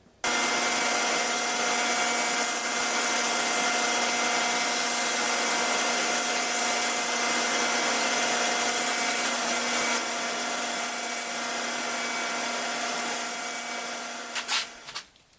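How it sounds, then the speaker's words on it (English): A belt sander runs continuously, smoothing wooden dog pull-toy parts, a loud steady whirring drone with a faint shift in pitch as the wood is pressed, then winding down with a few knocks at the end. "I'm just going to smooth them over here at the belt sander"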